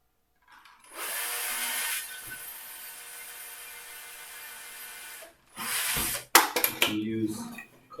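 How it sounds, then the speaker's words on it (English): A power drill boring pilot holes into wood pieces for a levitating wall clock: one sustained whine of about four seconds, then two short bursts with clatter and handling noise, close and fairly loud. "so we want to drill pilot holes there"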